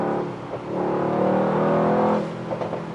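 A Mercedes-AMG GT 63 S 2021 with a V8 engine rumbles as the driver lifts off the throttle, a steady engine drone swelling and easing, with a few brief exhaust pops near the end.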